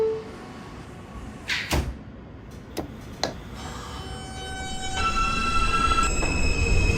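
A simulated R subway train bound for Forest Hills 71st Avenue in openbve rumbles along with a few sharp clanks and thuds early on, then builds into steady motor whine and wheel noise, loud and close, with no voices.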